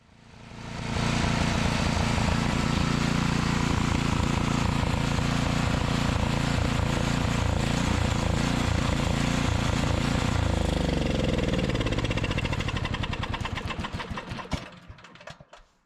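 A small snowblower engine runs loud and steady close by, then begins to falter and sputter as the fuel runs out, stumbling through its last uneven beats before dying into silence.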